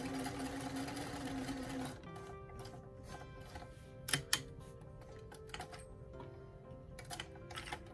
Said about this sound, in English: So let's go continue in that way and sew all the darts in the top.